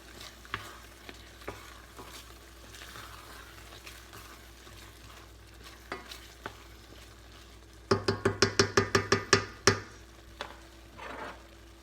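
Garlic chili being stirred after chili sauce and hot sauce go in, soft scraping and faint sizzle, then a quick run of sharp spoon-against-pot knocks near the end.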